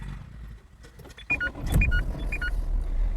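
A Dacia Duster running on an LPG system is restarted: a sharp starter crank midway, then the engine settles into a low idle rumble, with short electronic dashboard chimes sounding over it.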